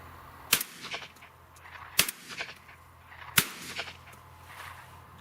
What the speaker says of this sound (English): You can see the gun ejects the hulls slightly forward.